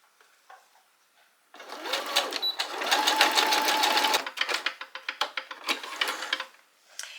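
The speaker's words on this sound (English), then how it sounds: "I'll pin it to here and then sew that up too" A domestic sewing machine stitching fabric pieces together runs in a fast, steady, close rattle for a few seconds, then continues in shorter stop-start bursts, after a little quiet handling at the start.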